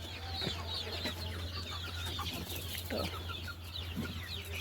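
Spotted country chickens, including Fayoumi hens, a rooster and chicks, cluck softly and intermittently nearby over a steady low hum, with occasional higher clucks and chirps scattered throughout.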